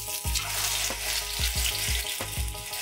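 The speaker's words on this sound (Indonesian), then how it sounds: "Tumis hingga bumbu matang ya." Spice paste sizzling in about three tablespoons of hot cooking oil over medium-low heat, a loud continuous fry with repeated stirring scrapes at a steady rhythm, close up and with no talk.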